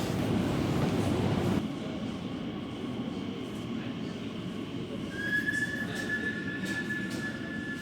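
A London Underground train rumbles steadily along the tracks between Whitechapel and Stepney Green, with a loud clattering start that settles into a continuous roar and a thin wheel squeal later.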